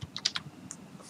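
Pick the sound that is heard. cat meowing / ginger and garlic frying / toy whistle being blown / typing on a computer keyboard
typing on a computer keyboard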